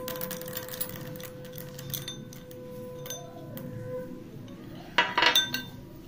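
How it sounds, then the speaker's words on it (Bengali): Small corn kernels tipped into hot melted butter in a pan for stovetop popcorn, a short clattering rush near the end after faint kitchen clinks and ticks. "এখানে ভুট্টাগুলো দিয়ে দেবো।"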